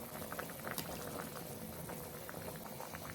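Tilapia fish curry with bean seeds, tomato and green chilies bubbles and simmers on a stove over medium flame, a steady close sizzle with small pops throughout and no talking.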